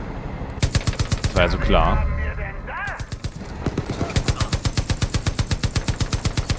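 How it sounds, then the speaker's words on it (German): Machine gun firing at the ground in the video game Far Cry 5, rapid evenly spaced bursts that are loud and close, broken by a pause while someone talks over the game sound. "Das MG, ich kann irgendwie nur auf den Boden schießen."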